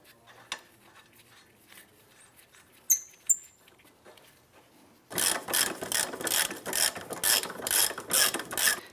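Ratchet tightening a nut on the rear trailing arm of a 2008-2013 Nissan Rogue: after a few quiet knocks, rapid loud clicking bursts run steadily for several seconds, close and alone.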